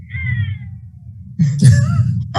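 A short cat meow rises and falls over a low background hum, followed by a louder burst of sound.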